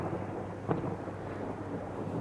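Heavy monsoon rain pours down in Ahmedabad during a thunderstorm, with a dense steady hiss and a brief sharp burst of thunder near the start, and no talking.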